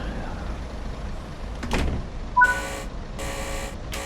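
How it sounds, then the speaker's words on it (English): Train doors on a class 142 unit lock in a train simulator game with a brief mechanical clunk, followed by a short beep tone and a few bursts of hissing air over a low background hum. "Lock doors."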